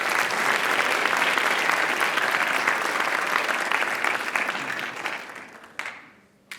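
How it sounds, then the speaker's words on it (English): Audience applause in a school auditorium at a writers expo, a steady dense clatter of many hands that holds loud for about five seconds, then thins and tails off with a few scattered late claps. "Can we get one more round of applause"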